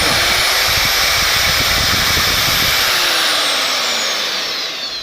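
A loud high-pitched whine of an angle grinder runs steadily close by, with a coarse grinding rasp underneath, tapering slightly near the end.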